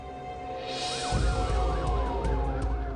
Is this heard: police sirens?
yes